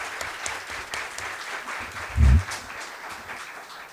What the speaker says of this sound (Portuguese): Pedir uma salva de palmas para a nossa colega